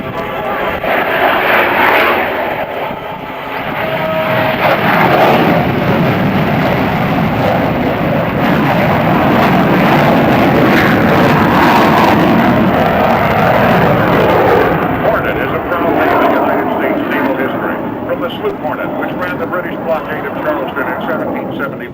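Roaring jet engine noise from a Hornet jet at an Andrews AFB air show, a loud, sustained broadband rumble that builds and holds for about twenty seconds, with crowd and announcer chatter underneath.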